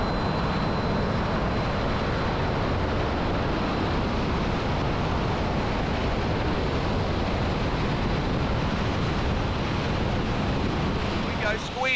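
An L39 jet fighter in flight over Australia makes a steady, dense roar of engine and rushing air that holds at a constant level throughout.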